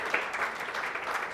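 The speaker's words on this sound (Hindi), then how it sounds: "जोरदार ताली बजाएं।" Audience clapping at a Hindi-language church gathering, a steady dense patter of many hands held at a moderate level for a short burst with no voices over it.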